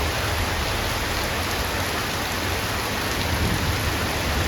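Heavy rain falls continuously near a flooded canal during a thunderstorm with lightning, a broad, steady roar throughout, with no distinct thunderclap and no voices.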